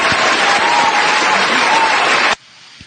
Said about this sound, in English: anytime I get a chance to play our applause button, I use it